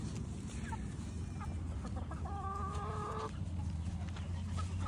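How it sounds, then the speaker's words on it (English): Chickens cluck steadily over a constant low background rumble, with one clearer drawn-out call standing out near the middle. "Got all these chickens, Brooks."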